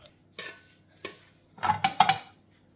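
Food is served from pots with spoons and dishes, giving a few sparse metallic clinks and scrapes followed by a quick cluster of cutlery knocks against plates, close and quiet, with no talking.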